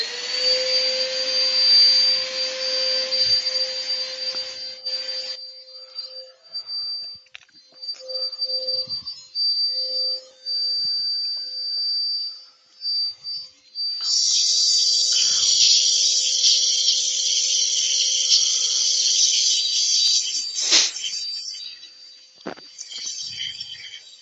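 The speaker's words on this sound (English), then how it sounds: "Extractor on. Sorry, it's going to get a bit noisy" A dust extractor runs in a woodturning workshop with a loud, steady broadband whoosh and whine. It drops away through the middle, then surges back even louder before fading near the end.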